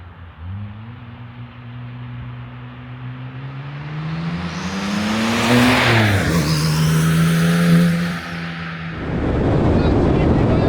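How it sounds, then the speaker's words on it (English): A rebuilt Porsche 997 911 Turbo engine pulls hard while driving, its pitch climbing through the gears with a shift around the middle, then a loud rush of wind and road noise. "this car is running and driving finally"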